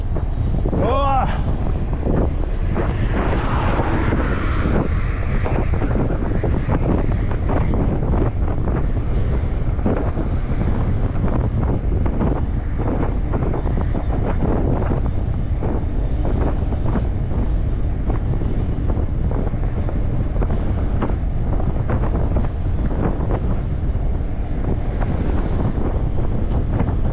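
Strong wind buffets the microphone continuously, a loud roaring rumble throughout, with faint voices underneath, on an uphill road in Crimea in September.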